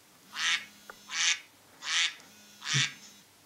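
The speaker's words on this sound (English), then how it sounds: "I'm into animals, so I'm going to choose a duck." Four evenly spaced duck quacks from an iPhone 5 ringtone sample, clear and isolated against quiet, with short gaps between each call.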